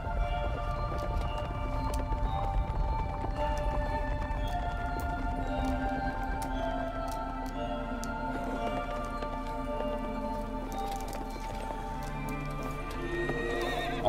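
Horses in the Shadow of the Colossus Remastered video game, whinnying and clip-clopping at steady volume for about fourteen seconds over layered tonal game music, with hoofbeats running throughout.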